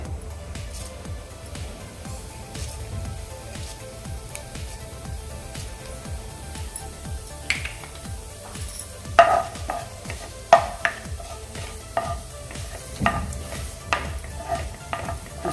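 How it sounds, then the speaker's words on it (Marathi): Cumin seeds sizzle in hot oil in a pan, a soft steady crackle and hiss close by, with occasional sharper pops and a few scrapes of a spoon, and no talking. "तेल गरम झालेलं आहे आता यामध्ये मी जिरं घालून घेते"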